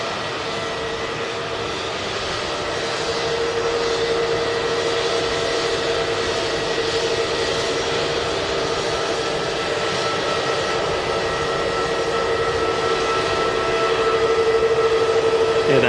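An EasyJet Airbus A320neo jet airliner departs for Athens, its engines producing a loud, sustained roar with a steady whine on top, continuous and unbroken throughout.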